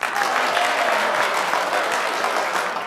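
Dense, steady applause from a large audience inside a casino, a continuous wash of many hands clapping together at close range for the whole stretch, with no pause and no speech over it.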